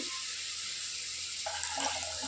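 Soaking water drains off rice in a steady, faint pouring trickle that continues throughout the short clip.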